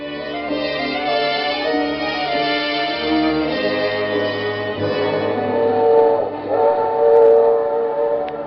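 Train in motion as a radio drama sound effect, with a steady rolling rumble and sustained whistle-like tones throughout, swelling slightly near the end; no voices.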